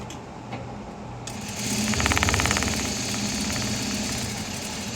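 A sewing machine stitches a seam on a handmade eyeglasses case, starting with a click and then running steadily at close range for several seconds with a fast, even rhythm.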